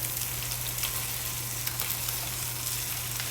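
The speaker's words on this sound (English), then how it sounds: "now I'm going to flip it over and let the other side cook" Red snapper fillets frying in a pan on a home stove, giving a steady, even sizzle and crackle throughout with no talk, recorded close and at moderate loudness.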